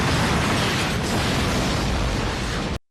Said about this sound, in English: Shinichi is immobilized and the grenade explodes.